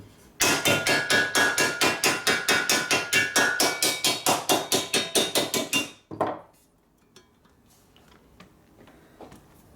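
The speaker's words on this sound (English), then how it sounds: "My hammer." Rapid, loud hammer blows on Harley-Davidson panhead motorcycle parts during a rebuild, about two dozen evenly spaced metallic strikes close up for six seconds, then a final knock and quiet shop sounds.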